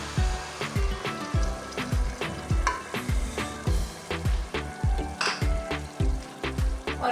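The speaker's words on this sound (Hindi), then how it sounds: "और इनको अच्छे से हम भून लेंगे ताकि जो लहसुन और टमाटर अच्छे अच्छे से भुने जाएं" Garlic, tomatoes and spices fry in a pan for egg gravy, a steady close sizzle broken by regular scraping stirs of a spoon against the pan, with no talk.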